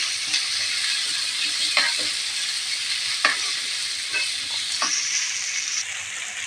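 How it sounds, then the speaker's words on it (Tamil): Tomatoes with salt sauté in a pan, giving a steady close sizzle broken by occasional scraping clicks from stirring. "சேர்த்து நல்லா வதக்கிடு"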